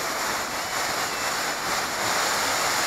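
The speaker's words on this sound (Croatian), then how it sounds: "Ovaj je možda čak i ljepši vodopad." A waterfall at the Skakavac falls near Kotor Varoš roars as a steady, dense wash of falling water, loud and unbroken throughout with no voices.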